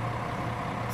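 An Águia Branca intercity bus on the São Paulo to Vitória da Conquista route, at Goval, Minas Gerais, gives a loud, steady close-up engine drone, with a brief airy hiss at the very end.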